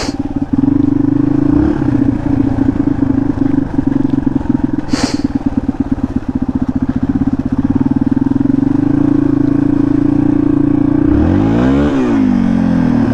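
A cheap $1,000 motorcycle idling and pulling away in first gear on black ice, a loud close engine drone with a rapid pulsing rumble, a brief high whine partway, and rising revs near the end.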